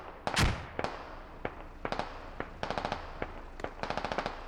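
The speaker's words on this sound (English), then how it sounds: "MG's opening up with the MRAPs." Machine guns on MRAPs rattle in short, rapid bursts during a US platoon push in the military game Squad, starting with one heavy blast, then repeated volleys at steady intervals with no talking.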